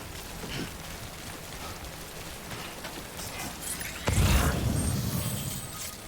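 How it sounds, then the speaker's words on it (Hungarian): Rain in the PS5 game Death Stranding Director's Cut makes a soft, steady wash, then a louder rumbling surge near the end as the downpour or nearby noise swells. "Eső."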